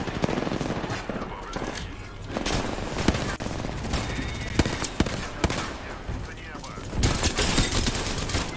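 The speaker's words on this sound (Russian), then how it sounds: "Как оно меня убивает? О, это вот этот дробаш." Rapid gunfire from a zombie video game, with a shotgun among the weapons, crackles in dense bursts throughout, loudest near the end, while speech can be heard faintly underneath.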